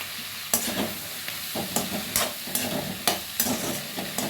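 Small onions fry in oil under a continuous sizzle, with a spoon scraping and stirring the pan in repeated sharp strokes about every half second.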